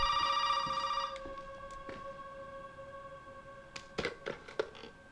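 A telephone rings in a video game, a steady electronic ring that cuts off after about a second, followed by quiet room tone and a few soft taps and clicks.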